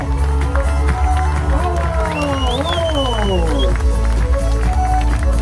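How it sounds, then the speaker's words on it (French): A festival crowd in Issoire applauds loudly at the close of the final day, with clapping and cheering mixed under sustained music with sliding melodic lines throughout. "Encore une fois, vous pouvez vous applaudir."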